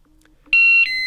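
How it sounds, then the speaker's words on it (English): A Yale smoke detector gives a loud, clear electronic beep and then a second, slightly lower tone that holds to the end of the clip, after near silence. "the smoke detector will beep twice in a descending pitch and stop flashing"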